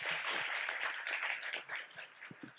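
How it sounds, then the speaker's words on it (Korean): A lecture audience claps for a speaker at the end of a session; steady, fairly faint applause of many hands throughout, with no voices standing out. "우리 실비아 선생님 너무 박수 한번 더 드리고요"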